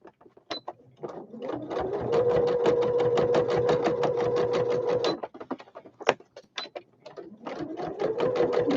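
A sewing machine stitches a fabric toiletry bag, its rapid needle chatter running in a steady burst for about three seconds, stopping, then starting again in shorter runs, loud and close with no talk.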